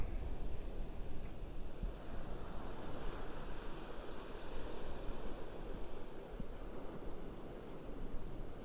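Ocean surf washing onto the beach at the south end of Pawleys Island on a cool March morning at outgoing tide, a steady broadband roar of breaking waves with some wind rumble, continuous and fairly close, no talking.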